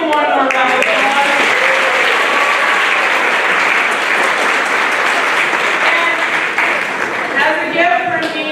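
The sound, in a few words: audience applause for high school soloists at a spring band concert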